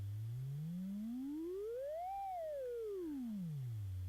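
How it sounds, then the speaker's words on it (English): A synthesizer oscillator's pure sine tone sweeps smoothly from a low hum up to a higher pitch and back down, steady and alone. "let's turn up our volume on our sine wave a little"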